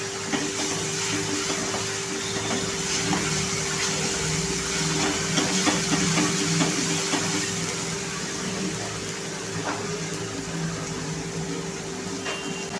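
Ginger-garlic paste frying in hot oil hisses steadily with a broad, close sizzle over a constant hum, loud and continuous with faint crackles scattered through.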